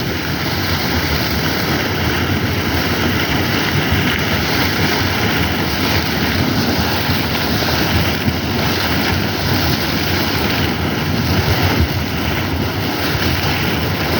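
Water gushing steadily from a hole in the ground, a periodic spouting spring, makes a loud continuous rushing and splashing roar with wind buffeting the microphone and no talking.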